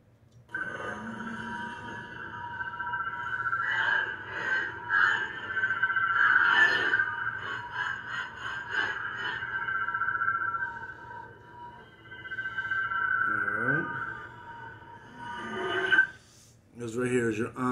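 A toy lightsaber cycles through sound font effects: a steady electronic hum with swells, clashes and bursts, a rising swoop near the end, and a short power-off drop, close and moderately loud with no talking.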